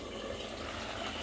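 Hot water poured into a pan of frying tar fish curry cooked in oil, giving a steady, continuous rushing splash that is soft and close, with no voices.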